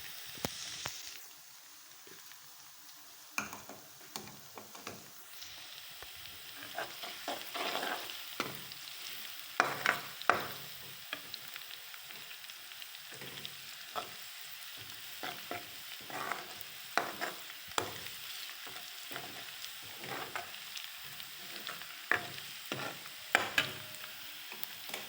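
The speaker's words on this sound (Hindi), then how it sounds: "अब मैं इसमें ये अदरक लहसुन का पेस्ट डालूंगी। इसको हल्का ब्राउन करेंगे। 2 से 3 मिनट इसको फ्राई करेंगे।" Ginger garlic paste fries in a pan with a steady soft sizzle, overlaid by frequent scraping and tapping of a stirring utensil, close and fairly quiet throughout, with no talking.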